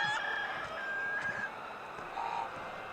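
Chickens cluck and a rooster-like call sounds in Heroes of Might and Magic IV, short fowl cries over a low ambient bed, moderately loud and with no talking.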